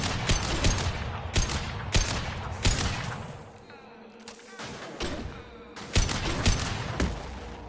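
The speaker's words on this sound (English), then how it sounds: "Nice shooting!" Rapid bursts of gunfire in the Mass Effect video game, loud and close, with repeated volleys separated by short pauses, a brief lull in the middle and heavy thuds in the low end.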